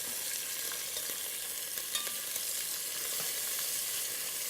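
Bacon fries in a pan, crackling and hissing evenly throughout at moderate level, with faint scattered pops and no one talking.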